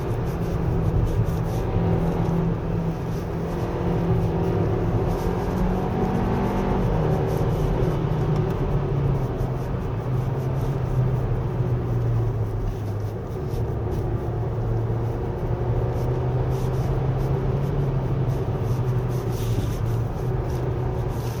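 A 2024 Hyundai Kona 1.6 Turbo 2WD is driven hard on a winding road with its stability control switched off, giving a steady engine drone and road roar whose pitch rises and falls with gear changes.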